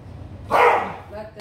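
One sharp dog bark rings out close by in a home kitchen, a single loud bow-wow standing out against quiet background sound.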